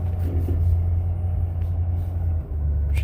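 Deep, steady engine rumble of a twin-screw truck as its wheels spin on tacky ground while sorting logs, a loud continuous low drone that dips briefly near the end.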